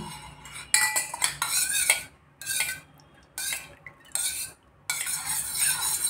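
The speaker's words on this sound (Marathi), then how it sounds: "हे चांगलं ढवळून घ्यायचं." A metal spoon stirs melted ghee in a pot, producing repeated close scraping and clinking strokes in several bursts separated by short silent gaps, with no talking.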